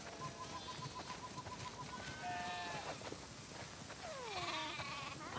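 Sheep bleating in a barn in The Last of Us Part II, several drawn-out wavering bleats from different animals over a steady ambient background, moderately near.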